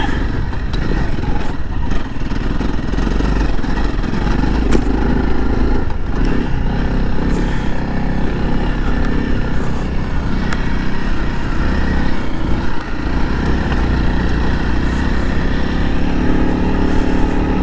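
A Honda CRF300L motorcycle engine drones steadily throughout, close and loud, with wind rumble and no clear pauses.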